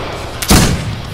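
A single loud gunshot from the western shooter game Fistful of Frags, a sharp boom with a short decaying tail, close and alone.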